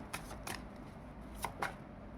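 A deck of cards is shuffled for a card reading, heard as a few quick, close riffling bursts in a quiet room.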